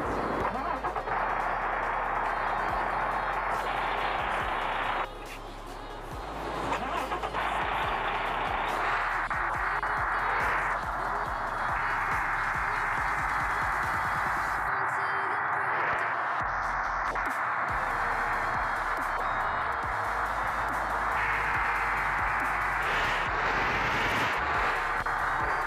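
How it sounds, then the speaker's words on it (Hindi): Engine of a Tata Marcopolo bus mod in the Bus Simulator Indonesia game, a steady droning hum that shifts in pitch and intensity several times over about twenty-five seconds, with a brief dip around five seconds. "तो सबसे पहले हम इसके इंजन साउंड को देखेंगे,"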